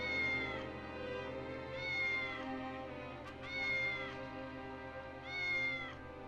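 A cat meows several times in a row, drawn-out and fairly clear, three main calls spaced evenly over a quiet background with no talking.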